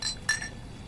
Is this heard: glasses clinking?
yes